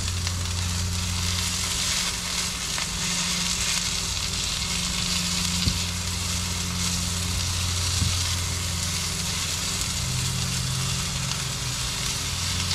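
Butter seasoned with salt and pepper sizzles steadily in a frying pan, a continuous crackling hiss with faint low hum beneath and a couple of soft clicks.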